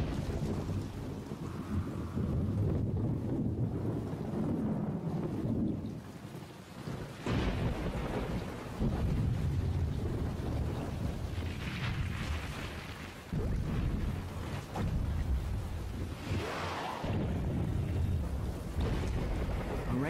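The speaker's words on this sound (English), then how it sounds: "A rainstorm can be deadly." Heavy rainstorm with steady, dense rain and deep rumbles of thunder rolling in and out, loud and continuous, with no voices.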